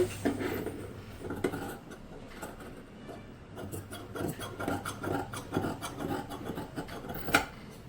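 Scissors cutting blouse fabric on a work surface, giving close, uneven rasping snips and scraping rubs that come in short bursts, with no talk.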